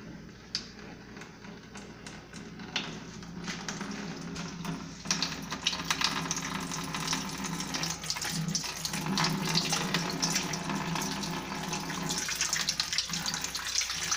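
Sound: wort poured from hose into beer fermenter

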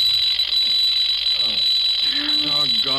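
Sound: alarm clock ringing

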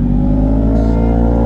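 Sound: superbike engine sound accelerating

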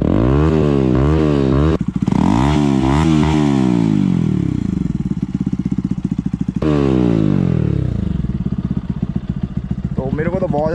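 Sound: Pulsar NS 160 motorcycle with Akrapovic full-system exhaust

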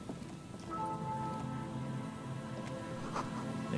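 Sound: rain dripping from a tarp in the Disco Elysium video game

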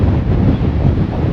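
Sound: strong wind

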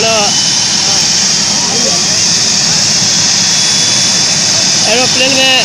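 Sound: helicopter or jet aircraft engine before departure

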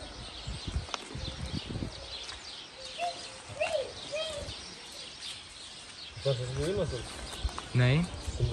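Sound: birds singing outdoors

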